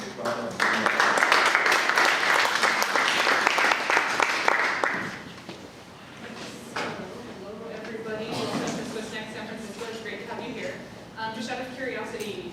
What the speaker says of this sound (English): please give Laura a big round of applause.